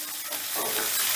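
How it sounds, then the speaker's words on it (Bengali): Onion frying over medium gas until lightly browned gives a brief, even, close sizzle with a soft rising hiss and no voices. "এবার গ্যাসের আঁচটা মিডিয়ামে রেখে পেঁয়াজটাকে আমি হালকা লাল করে ভেজে নেব।"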